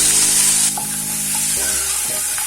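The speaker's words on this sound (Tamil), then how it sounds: "இது நல்லா கோல்டன் ப்ரௌன் வர அளவுக்கு நம்ம இதை நல்லா ஃப்ரை பண்ணி எடுத்துக்கலாம்." Cut boiled eggs fry in hot oil with chilli powder masala in a pan for egg masala curry, a loud steady sizzle with stirring scrapes throughout.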